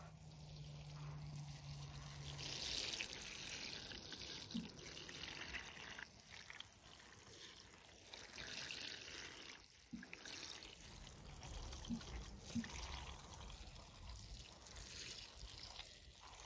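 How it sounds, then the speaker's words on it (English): Water being poured from a watering can or tap onto small pots of freshly planted ginkgo seeds, a soft trickling and splashing that comes and goes in faint bursts, with no talking. "So let's get some water on these."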